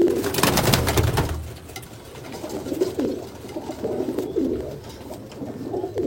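Abluk pigeons coo in deep, soft, rolling phrases, close and repeated several times. The calls come over a low murmur, with a brief burst of louder rustling or wing noise at the start.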